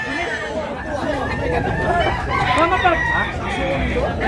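Roosters crow repeatedly at a crowded rooster market in Tabunok, Cebu, overlapping calls rising from many birds nearby, with someone talking steadily over them.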